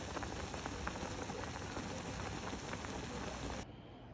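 Steady rain pours down in a dense, even hiss, close and unbroken, with no voices, then cuts off abruptly near the end.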